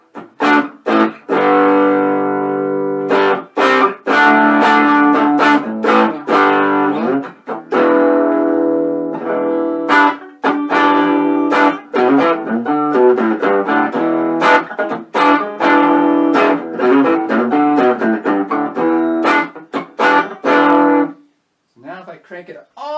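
Clean electric guitar through a homemade 5F1 Champ-style tube amp, loud plucked notes and chords ringing out in phrases with short gaps, close and alone, ending in a brief silence.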